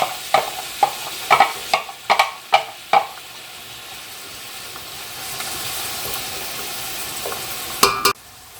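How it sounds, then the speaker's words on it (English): Chopped onions, about ten cups, sautéing gently in a pot for homemade tomato sauce, starting with a run of sharp knocks and stirs, then settling into a soft steady sizzle, close by, with no talking. "we're going to saute this gently until everything is soft and translucent"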